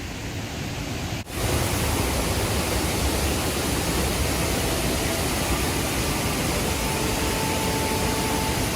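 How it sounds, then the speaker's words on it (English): Malawi's highest waterfall roars steadily at close range, a dense, loud rushing of falling water that cuts out for a moment near the start and then continues unbroken, with no voices. "I think I'm already at the top of the waterfall. This is actually the highest waterfall in Malawi"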